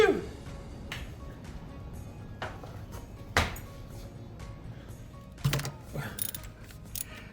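A hand ratchet clicks and grinds while removing the spark plugs from a Jeep engine, with several sharp clanks and metallic taps between bursts of ratcheting, close and fairly quiet, no talk.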